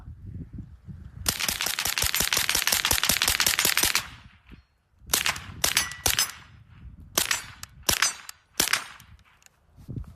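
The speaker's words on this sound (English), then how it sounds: "This is that 45 ACP suppressor attached to this 9-hole vector." Suppressed Vector carbine firing .45 ACP rounds: a long, rapid fully automatic burst of about two dozen sharp, closely spaced shots, followed by several short bursts and quick pauses, loud and close with no talking.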